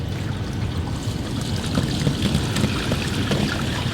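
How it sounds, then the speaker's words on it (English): A Winnebago Class B RV black tank drains after its valve is pulled, giving a continuous, close rush of gushing water that holds steady without pause. "And you can hear it draining."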